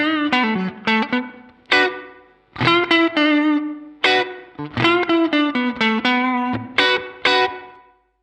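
Electric guitar played through a HOTONE Ampero processor on a classic spring reverb setting with long decay, a run of picked melodic notes and short phrases with a lingering reverb tail, no talking.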